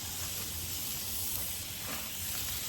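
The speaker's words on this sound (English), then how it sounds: "flip it upside down like so, and it's frying. You can hear the sizzle." Steady, quiet sizzling hiss of a smash burger taco tortilla frying on a hot Blackstone griddle, continuous with no talking.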